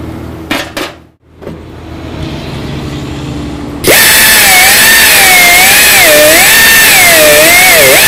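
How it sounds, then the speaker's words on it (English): Halfway through, a grinder spins up abruptly to a loud, sustained high whine that wavers in pitch as it touches up a pinhole flush with the surface, after a few quieter knocks and handling sounds. "I'm gonna take and get my grinder, and I just wanna touch that a little bit."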